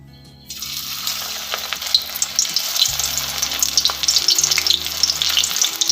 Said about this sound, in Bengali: তেলটা গরম হয়ে গেছে এবার আমি বড়াগুলো ছেড়ে দিচ্ছি